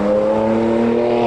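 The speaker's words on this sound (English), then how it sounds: "Oh, there's some hypercars coming." Bugatti Chiron and Valhalla hypercars driving past at a car show, a loud, steady engine drone with sustained tonal whine lasting about a second, close and without talk.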